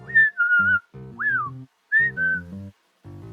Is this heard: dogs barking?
no